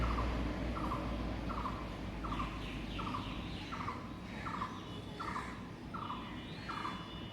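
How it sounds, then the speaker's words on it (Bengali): Repeated bird calls ring out at a steady rhythm, roughly one every half second, over a loud constant low rumble; a koel is said to call now and then on a rainy green morning. "এই একটা পাখির ডাক শোনা যাচ্ছে আবার কিছুক্ষণ পরপরই কোকিলের ডাক"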